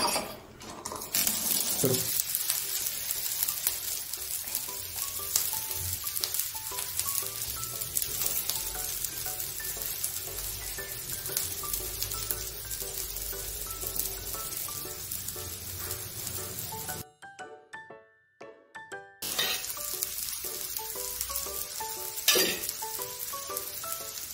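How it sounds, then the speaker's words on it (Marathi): Potato patties for ragda pattice shallow frying on a hot tawa give a steady, close, busy sizzle that runs throughout and drops away briefly near the end before resuming. "अशा प्रकारे आपल्याला तव्यावर शालो फ्राय करून घ्यायचे आहेत"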